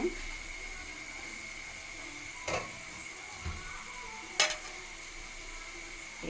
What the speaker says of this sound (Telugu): బాగా నూనె మగ్గుతాయి వంకాయలు టమాటాలు